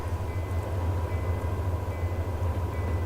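Steady low rumble and rolling drone of a train running through Ottertail on a winter grain empty run in the Open Rails simulator, continuous and even throughout with no talk.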